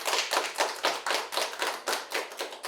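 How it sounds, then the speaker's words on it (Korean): An audience claps at a school youth debate on filial duty, a quick, steady, fairly close patter of hands lasting a few seconds with no talking. "박수 보내주세요."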